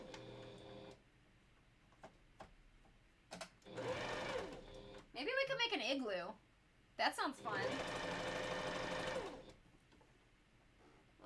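Sewing machine skipping stitches runs in quiet bursts of fast mechanical whirring while a sewing project is worked on, broken by pauses, with people talking over part of it.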